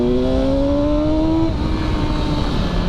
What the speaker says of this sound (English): Today we're going out for a ride on my 2019 BMW S1000XR.